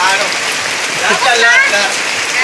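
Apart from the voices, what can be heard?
ice water poured on head, ice bucket challenge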